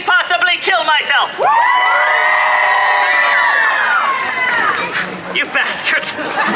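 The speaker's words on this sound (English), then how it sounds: "who amongst you by round of applause and general noise making would like to see me possibly kill myself?" A festival crowd at the St Louis Renaissance Festival cheers loudly, with a long sustained whoop and shouts rising over claps and general noise-making, close and energetic throughout.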